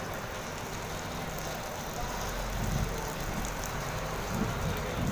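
A police water cannon truck sprays disinfectant down like rain, giving a steady, loud broadband hiss and patter of falling droplets that swells slightly partway through, with no talking.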